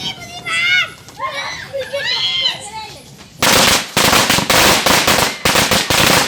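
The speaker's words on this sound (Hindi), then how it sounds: "बच्चे और बड़े लोगों के द्वारा रंग बिरंगे फुलझड़ियां, पटाखे और आतिशबाजी की गई" Children's voices chatter briefly, then a rapid string of loud Diwali firecracker bangs and crackles erupts, popping in dense irregular bursts.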